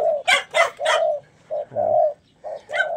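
Close, repeated pigeon cooing in soft throaty bursts with short pauses between them, no other sounds around.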